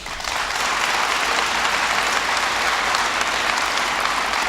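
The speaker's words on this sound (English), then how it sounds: "Please give them a big round of applause." Sustained applause from a large audience at a presidential event in Nevada, steady and dense from start to finish with no voices over it.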